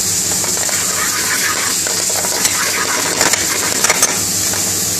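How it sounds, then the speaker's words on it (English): Prawns are stirred and chopped into a bhuna-style curry base in a restaurant kitchen, with loud continuous sizzling and scraping plus scattered sharp metallic clinks from a utensil against the pan. "and now we're chopping the prawns in."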